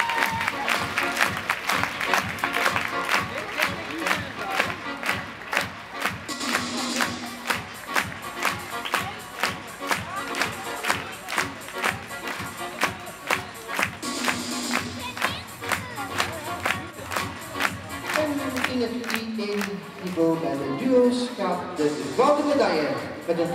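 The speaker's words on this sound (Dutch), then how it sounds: "onze medaillewinnaars en daarvoor een applaus." At a gymnastics practice competition medal ceremony in Puurs, the crowd applauds the medal winners with rhythmic, evenly paced clapping that keeps time over a long stretch, while voices speak over it.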